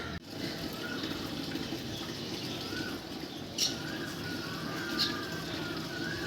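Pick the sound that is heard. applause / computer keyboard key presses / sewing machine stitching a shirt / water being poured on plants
water being poured on plants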